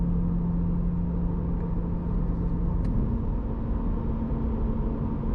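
A C8 Corvette engine drones steadily and close, its pitch stepping up around the midpoint as the quick-shifting DCT transmission changes gear, with continuous road rumble underneath and no talking.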